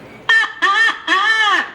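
A parrot at a zoo bird show imitates a rooster crowing, giving three loud, close, drawn-out harmonic calls in a row, the last one longest, with no talk over them.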